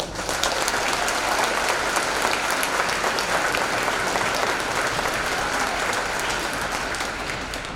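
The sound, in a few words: applause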